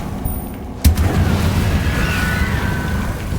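Incendio fire spell cast in Hogwarts Legacy: a sudden booming burst of flame that hits once and then settles into a loud, sustained roar with whooshing tones, with no speech over it.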